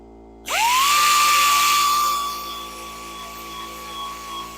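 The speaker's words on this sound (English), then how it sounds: "So I'm sanding in a way that the disc is rotating from bottom to top on the left-hand side." A rotating sanding disc spins up and bites into hardwood on a woodturning lathe, giving a loud, close, sustained high whine with a gritty hiss that eases slightly after a couple of seconds.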